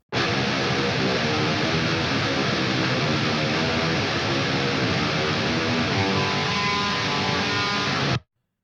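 A dense, heavily distorted metal guitar tone from two paired amp simulators, one a Marshall, rings out for about eight seconds, thick and full across the range, then cuts off abruptly.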